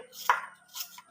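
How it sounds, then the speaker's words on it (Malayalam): A knife chops onion in a home kitchen, with two soft, quick cuts close by over a quiet room. "അതിനു വേണ്ടി ഉള്ളി അരിയുകയാണ്"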